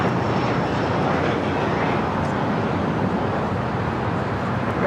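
An American Airlines jet takes off from runway 25 right at LAX, a steady, broad engine roar holding loud and constant throughout.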